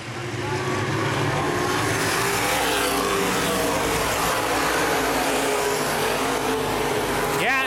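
Open wheel modified race cars roar around a speedway in a 2011 feature race, a dense, continuous engine drone from a pack of cars at mid distance, with a commentator talking throughout.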